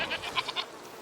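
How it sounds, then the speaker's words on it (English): A goat in the video game A Plague Tale bleats in a quick series of short, nasal calls close by, then falls quiet. "You're a nice goat, Lucinda."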